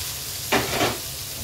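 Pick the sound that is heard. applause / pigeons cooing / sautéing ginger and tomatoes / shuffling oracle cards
sautéing ginger and tomatoes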